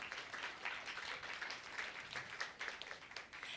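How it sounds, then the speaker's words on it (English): An audience applauds during a church service, a steady, soft wash of clapping that holds evenly for several seconds and sounds somewhat distant. "Round of applause for Miss Kelly."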